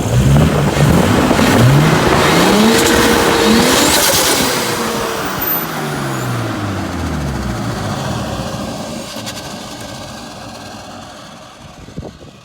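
A Nissan Skyline GTS-T turbo engine revs up loud and close, its pitch rising and falling through a couple of sweeps, then settles into a lower, fading idle-like drone. The idle air control valve is dirty, so the engine tends to want to die.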